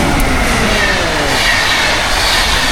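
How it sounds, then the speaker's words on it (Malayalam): Train pulling into a station in Sweden and slowing to a stop, a steady close rumble of wheels and rails with faint high squeal lines, continuous throughout. "നിർത്താൻ പോകുന്ന ഏതൊരു ട്രെയിൻ."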